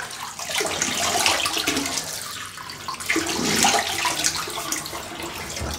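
Hot water runs steadily from a tap into a sink before a wet shave with a Rockwell 6S razor, a close, continuous splashing hiss that shifts a little as hands move under the stream.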